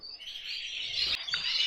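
A pet hybrid finch at home gives a sustained, high chittering song, close and fairly soft, with a brief sharp click partway through and no voices.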